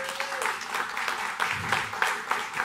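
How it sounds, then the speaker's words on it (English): A short burst of audience clapping and a few cheers at a tribute jazz concert, fairly even and moderately loud. "So give her a round of applause"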